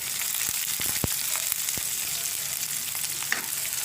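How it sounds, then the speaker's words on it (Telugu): Green chillies frying in hot oil for perugu charu, a steady broadband sizzle with a few sharp pops and spoon taps against the pan, close and fairly loud with no talking. "పచ్చిమిర్చి కొంచెం వేపాలి"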